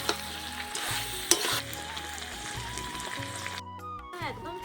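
Chicken curry with chopped tomato and green chilies being stirred in a pan, a steady sizzle with scraping stirring strokes and one sharp clatter, some faint background voice.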